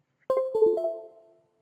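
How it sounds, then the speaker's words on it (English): A Pixhawk flight controller plays its musical startup tones after a reset and reconnect: a short, clear sequence of three or four bright electronic notes that ring out and fade, close and alone. "Those were the musical tones"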